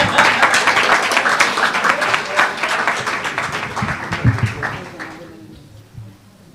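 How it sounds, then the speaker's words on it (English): An audience at a teachers' union conference opening ceremony gives a sustained round of applause, dense clapping that gradually thins out and fades to a few last claps, with a voice talking faintly underneath. "Another round of applause."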